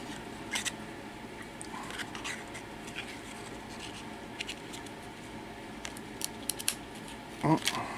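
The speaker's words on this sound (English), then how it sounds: "Gotta pick it off with the scissors." Small metal scissors scrape and pick gum off a trading card in short, irregular scratches and clicks, close by and fairly quiet.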